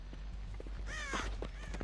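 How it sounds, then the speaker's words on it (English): A crow caws in the horror game Dead by Daylight, a short burst of harsh calls rising over a steady low game hum, fairly close and moderately loud. "That bird flew right in my freaking face."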